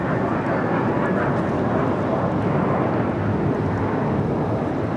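An American Airlines A321 takes off from Los Angeles airport, its broad, loud jet roar filling the air steadily without a break.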